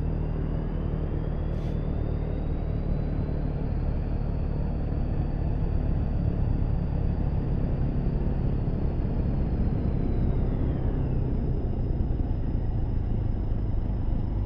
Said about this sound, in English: we'll go ahead and turn on the left engine